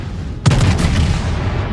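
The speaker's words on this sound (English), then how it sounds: "Oh, so now the Colorado's going to shoot at me." A single deep, loud battleship gun boom in the naval combat game World of Warships, with a Colorado battleship in the fight. The blast is followed by a long rumbling tail, and no voices are heard.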